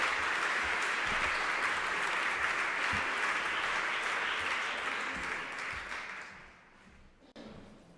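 Sustained audience applause welcoming Professor Scott Tremaine to a lecture at the Fundación BBVA, dense and steady, then thinning out and fading toward the end.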